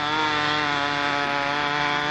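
A model engine on a Nobler control-line airplane runs at a steady, high buzzing whine, continuous and even in loudness, with no other sounds.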